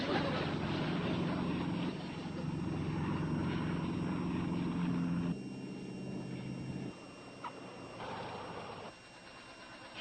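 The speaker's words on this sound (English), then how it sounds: "the plane is coming down" A propeller airplane descends to land, its engine drone loud and steady throughout, easing in strength partway through with no voices heard.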